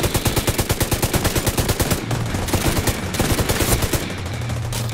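Rapid rifle fire from The Division 2 rattles out in fast, evenly spaced bursts, with a short pause near the middle before the shooting resumes. The shots are loud and close, and a few game sound effects sit underneath them.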